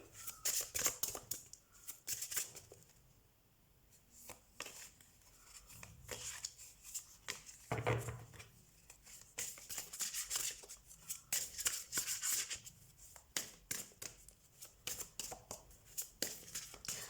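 Tarot cards shuffled and drawn by hand, a steady run of soft flicking, riffling and sliding card sounds through the whole stretch, close and fairly quiet, with no talking.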